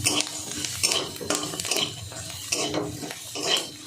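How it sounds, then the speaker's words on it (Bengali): Dal fried in a little oil is stirred with a metal spoon in a pan, giving rhythmic scraping and clinks about once a second over a light sizzle, close and clear. "আর অল্প 1 মিনিট ভেজে নামিয়ে নেব ডালটা।"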